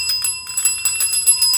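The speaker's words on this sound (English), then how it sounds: "We have completely ignored this bell." A bell rings repeatedly in rapid, evenly spaced strikes, bright and close, with a steady metallic ring sustained between hits.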